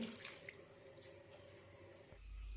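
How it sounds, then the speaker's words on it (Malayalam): Water pours from a tap-like stream into a pot of radish sambar holding chopped onion and vegetable pieces, a steady close splashing flow for about two seconds before it stops. "കഷ്ണങ്ങൾ വേവാനുള്ള വെള്ളം ഒഴിക്കാം"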